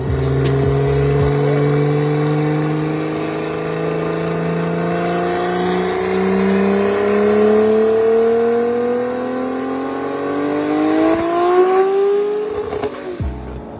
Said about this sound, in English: Spinning on the dyno.